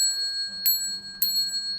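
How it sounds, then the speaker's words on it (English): A small meditation bell is struck twice before a Buddhist Dharma lecture, each strike a bright clear ring with a sustained shimmering tone in a quiet room. "Let me ring the bell, you can bow."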